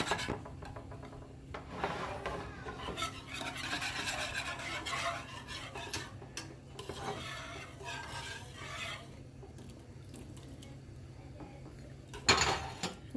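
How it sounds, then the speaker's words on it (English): A spoon stirs sour cream into gravy for beef stroganoff with a soft, continuous scraping and swishing against the pot, close by, ending in a sharper clink of the spoon. "You're gonna mix that up and then you're gonna put the meat on."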